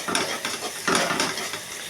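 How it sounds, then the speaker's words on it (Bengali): Spice paste fries in oil for a rohu fish curry, giving a steady close sizzle with a few scraping stirs at regular intervals and no voices. "মশলাটা আমার একটু ভাজা ভাজা হলে পরেই আমি আলুটাকে আর এটাকে ছাড়বো।"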